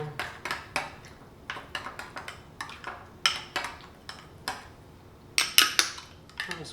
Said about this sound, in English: So what you're going to do is you're going to mix this up.